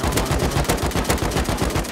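Rapid automatic gunfire from the video game Rust hammers out in a dense, loud burst of evenly spaced shots, close and continuous for the whole stretch.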